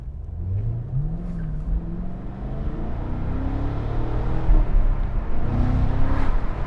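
A 2025 Cadillac CT5-V Blackwing engine revs up and accelerates, its deep drone rising in pitch with a rumbling exhaust, close and loud.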